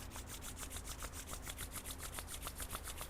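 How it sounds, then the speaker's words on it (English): Palms rubbed briskly together during a pranayama breathing practice, a steady dry swishing friction repeated in quick regular strokes for the whole stretch, close and moderately quiet with no talking. "Rub your palms."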